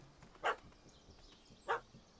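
In the video game The Witcher 3, a puppy gives two short, clear yips about a second apart. They sound fairly close over a quiet background.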